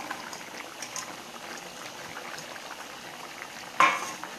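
A kohlrabi and potato curry bubbles at a steady low simmer, then a sudden splash and sizzle marks the fried tangra and shingi fish dropping into the pot near the end.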